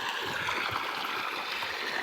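Water from a motor-pumped well rushing into a field channel among millet crops, a steady close gushing flow without talk.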